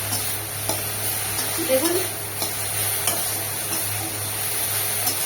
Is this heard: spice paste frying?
yes